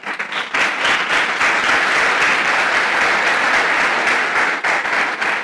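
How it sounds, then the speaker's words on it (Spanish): A church congregation bursts into sustained, loud applause, many hands clapping together in a dense, continuous patter that holds steady for several seconds. "¿Usted cree que Dios merece un aplauso?"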